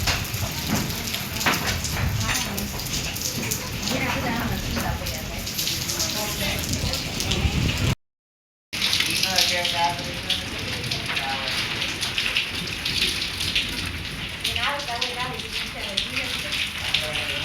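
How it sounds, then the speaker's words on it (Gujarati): Steady rain during a cyclone in Bajud patters on a hard surface, a dense continuous hiss with voices talking intermittently underneath. "જો વરસાદ ચાલુ થઈ ગયો છે."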